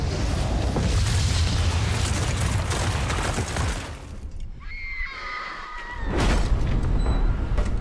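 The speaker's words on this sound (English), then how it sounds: "It's sort of like a nuclear explosion of sorts." A massive, nuclear-like explosion tears through a city in a destruction scene, with a long roaring rumble and debris wash that eases off briefly, then a second heavy burst near the end, mixed with high tonal score elements.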